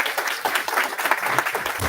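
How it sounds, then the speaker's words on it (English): An audience at a panel event in the U.S. Pavilion breaks into brisk, dense applause as the moderator is welcomed. The clapping is loud and continuous for the whole two seconds. "give her a round of applause"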